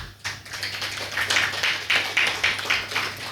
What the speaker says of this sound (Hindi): तो ऐसे भाई का हम ताली बजा के